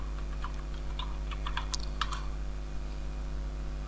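Light tapping on a computer keyboard as a tagline is typed into a form, a quick run of soft clicks over a steady electrical hum, clustered in the first two seconds before trailing off.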